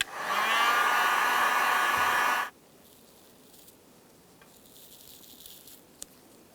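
A heat gun or hair dryer blows hot air onto the seat foam of a 2000-2006 Chevrolet Tahoe during a seat heating element replacement, giving a loud, steady whoosh for about two seconds before it cuts off into quiet handling noise.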